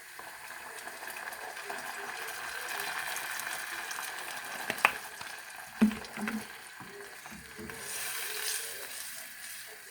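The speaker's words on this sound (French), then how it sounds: "Maintenant, on va rajouter le vin blanc." White wine poured over browned, translucent onions in a pan, making a gentle continuous sizzle and bubbling with a few clinks and stirring sounds midway, fairly quiet throughout.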